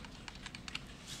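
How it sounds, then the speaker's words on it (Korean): A brief burst of several soft computer keyboard clicks, including a Ctrl+V paste, sits faintly against a quiet room hum. "컨트롤 V 눌러서 이렇게 만들어 놓는 거죠."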